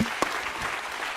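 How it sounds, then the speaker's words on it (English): A crowd claps in dense, continuous applause at a hackathon closing ceremony, loud and steady through the brief moment. "So a big round of applause again."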